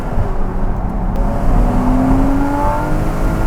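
Porsche 981 Cayman S with PDK gearbox accelerating hard, heard from inside the cabin as a loud, continuous engine roar with rising pitch that climbs smoothly through the revs, with no speech.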